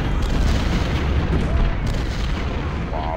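Continuous heavy rumbling bombardment in Ultimate General: Civil War at the Battle of Antietam, deep booms rolling into one another like sustained cannon fire, loud and dense throughout.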